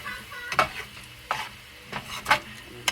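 Eggs cooking in a pan for potato, egg and bacon tacos, a soft sizzle under a handful of scraping spatula strokes as they are flipped and spread out.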